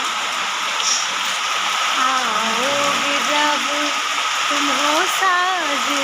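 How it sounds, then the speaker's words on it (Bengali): Steady rain hisses across the whole clip while a person talks over it in the foreground. "কি সুন্দর বৃষ্টি হচ্ছে"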